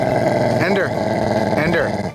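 A dog growls steadily while playing tug-of-war, a continuous rumbling snarl with a couple of short higher yelps or whines mixed in, close and loud throughout.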